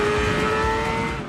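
Racing cars at the Silverstone circuit give a loud, continuous engine drone that holds a steady pitch, with a slight fade at the end and no talk.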